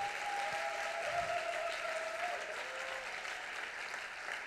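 A conference audience at a university awards ceremony applauds steadily for several seconds, a broad even wash of clapping at moderate distance, with a faint ringing tone drifting underneath.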